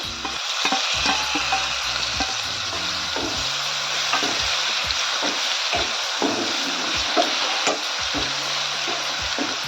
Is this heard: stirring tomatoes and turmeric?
yes